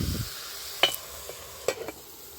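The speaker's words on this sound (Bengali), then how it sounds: "ভালো করে নেড়ে চেড়ে আমি একটু ঢাকনা দিয়ে দিচ্ছি।" Red amaranth greens are stirred in a pan without water, with a soft steady sizzle under a few sharp scrapes and taps of a utensil against the pan, close and with no talk.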